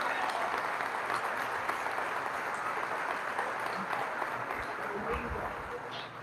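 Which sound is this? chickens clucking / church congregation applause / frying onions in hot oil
church congregation applause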